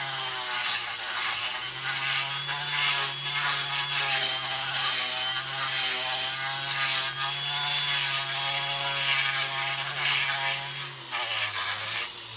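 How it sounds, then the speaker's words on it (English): A flex shaft tool with a metal polishing buff grinds into a pool noodle, a loud, steady high-pitched whir with constant buzzing tone throughout, close up and uninterrupted. "these metal polishing buffs, they definitely grab onto the pool noodle"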